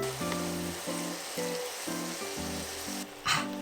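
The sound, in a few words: mushrooms stir-frying in a pan with oil and soy sauce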